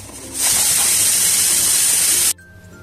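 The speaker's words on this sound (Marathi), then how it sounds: "कांदा आधी आपल्याला चांगला भाजून घ्यायचा आहे।" Onion hitting a hot tawa gives a loud, steady hiss and sizzle lasting about two seconds, then cutting off sharply into quiet.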